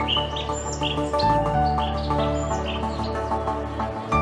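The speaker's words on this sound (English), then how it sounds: "there lived a family of parrots in their nest" Parrots chirp in a dense jungle, bright repeated tweets and calls sounding over a steady bed of music, fairly close and continuous with no talking.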